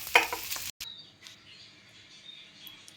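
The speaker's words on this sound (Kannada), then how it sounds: "ಇವೆಲ್ಲವನ್ನು ಹಾಕಿ ಹುರ್ಕೋಬೇಕು ಎಲ್ಲ ಸಾಮಾನುಗಳು ಇಂಗ್ರೀಡಿಯೆಂಟ್ಸ್ ಅದನ್ನ ನೋಡ್ಕೊಳ್ಳಿ ಇದನ್ನೆಲ್ಲ ಹುರ್ಕೊಂಬಂದ್ಬಿಡೋಣ" Spices and ingredients for chicken masala frying in a pan: a loud hissing sizzle at first, then a sudden cut and a quieter, steady crackle with light stirring scrapes.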